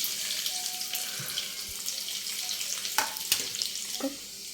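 Finely chopped garlic and curry leaves frying in oil in a pan, a continuous close sizzle with scattered crackles and small knocks of utensil contact, fading slightly at the end.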